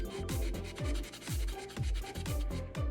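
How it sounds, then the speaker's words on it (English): Cleaner rubbed along an old Converse All Star canvas shoe, a close, rhythmic back-and-forth scrubbing with regular strokes about twice a second, with no talk. "Just keep rubbing. Just keep going down the shoe."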